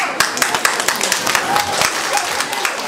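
A live audience applauds with steady, dense clapping, close and continuous throughout, with scattered sharper claps standing out of the crowd noise.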